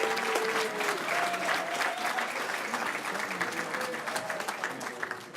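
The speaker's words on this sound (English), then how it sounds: "give them a round of applause." An audience at an engineering awards ceremony gives a full round of applause, many hands clapping in a dense, sustained wash that slowly thins toward the end, with faint crowd murmur beneath.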